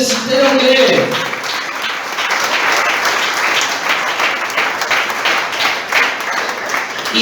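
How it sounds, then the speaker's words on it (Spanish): Congregation in a church service breaks into dense, sustained applause that carries on evenly, opening with a short spoken phrase before the clapping takes over. "Aplauda entonces si usted lo cree."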